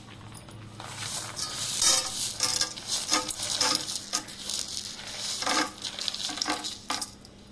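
Spices for an upma tempering crackle and sizzle in hot oil, with a steady frying hiss, scattered pops and occasional clinks of a utensil against the pan, close and continuous.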